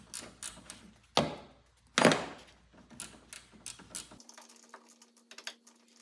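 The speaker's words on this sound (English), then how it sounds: "Got the T40 Torx again, and a 17 millimeter ratcheting wrench to speed things up." A 17 mm ratcheting wrench clicks in quick bursts while removing the strut from a 2007-2008 Honda Fit GD, with a couple of louder metallic knocks mixed in before it goes quiet.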